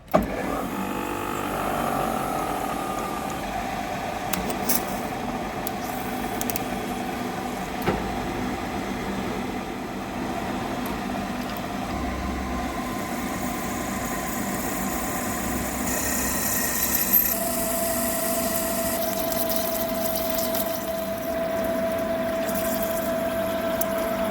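Steady whirring drone of a big lathe drilling holes in steel, a continuous mechanical hum with a faint cutting whine holding evenly throughout, close and moderately loud with no talking.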